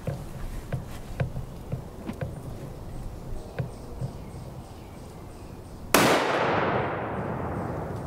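A single sharp rifle shot firing a solid copper bullet at a UHMWPE target, a loud crack with a decaying tail late in the clip, preceded by quieter clicks and clanks of handling.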